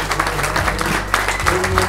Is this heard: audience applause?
yes